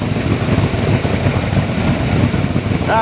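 The engine of a 55-year-old race boat roars continuously at speed, a loud, rough, steady drone with heavy low rumble and wind noise throughout.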